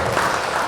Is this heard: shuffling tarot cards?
no